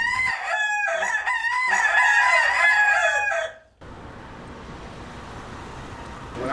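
A free-roaming Key West rooster crows loudly and close, a long cock-a-doodle-doo with harmonic cries, then stops, leaving quiet outdoor background hiss.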